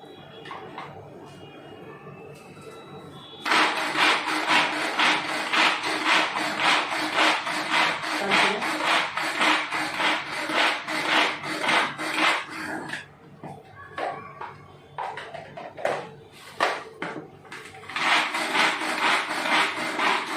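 Rapid, steady knife chopping of onion on a wooden board, continuing for long stretches with a few brief pauses.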